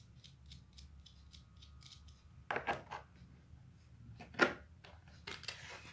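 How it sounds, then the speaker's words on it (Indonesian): Nut being threaded and tightened onto a bolt on a speed regulator, with a run of soft rapid ratchet-like clicks followed by a few louder metallic clacks and rattles, close by. "Di sini kita pasang mur. Lalu kencangkan."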